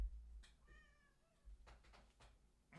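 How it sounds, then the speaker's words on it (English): A house cat meows at a door, a few drawn-out cries at moderate level with faint knocks and rustles around them, no talking. "You don't have to meow at the door."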